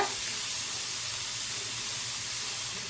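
Tomatoes sautéing in a pan give a steady, even hiss and sizzle, close and moderately loud, with no voices.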